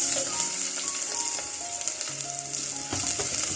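Onions sizzle steadily in preheated oil, a dense, continuous frying hiss with small crackles throughout, fairly close and with no one speaking.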